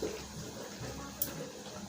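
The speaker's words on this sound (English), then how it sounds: "So I'm pouring the whole Sprite inside it." Sprite soda being poured into a glass of Fanta while mixing a Chapman drink, a steady, faint liquid trickle running continuously at close range.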